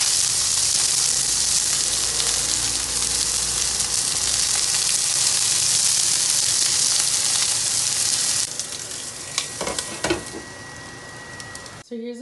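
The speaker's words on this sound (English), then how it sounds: "Make sure you're sauteing the veggies at a low temperature, so the oil doesn't" Vegetables sautéing in coconut oil in a pan at low heat, a loud continuous sizzle that fills most of the stretch before fading, with a few stirring knocks toward the end.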